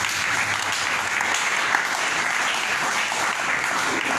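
A church congregation at an evangelical service applauds in a steady, dense wash of clapping that fills the space evenly from start to finish, with no voices rising above it.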